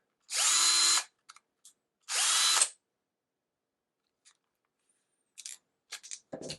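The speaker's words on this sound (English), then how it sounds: "Now it's making a grinding noise." A Bosch PS31 12V cordless drill motor whirs with a grinding edge in two short bursts, gear stuck between first and second, followed by scattered light clicks and handling noises nearby.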